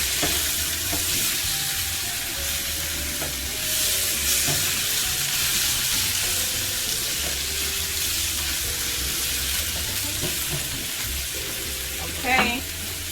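Onions sizzle steadily in a frying pan for a Jamaican coconut curry Cornish hen, with a spoon stirring and scraping now and then, plus a brief clatter near the end.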